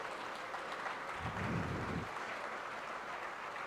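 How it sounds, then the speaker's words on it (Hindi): Soft, distant applause from an audience welcoming a district guest at a ceremony, a faint continuous wash of clapping that swells briefly in the middle. "कृपया खड़े होकर उनका तालियों से स्वागत करें।"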